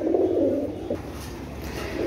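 Oman teddy pigeons in a loft room give soft, low, throaty coos, one longer rolling coo followed by quieter murmurs against steady background noise.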